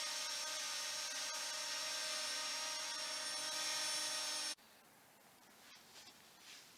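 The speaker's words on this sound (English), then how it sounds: "Right now, this drone is very stable." A YLRC S106 quadcopter drone hovers close by with a steady high-pitched rotor whine for about four and a half seconds before cutting off abruptly, leaving quiet room noise with no talking.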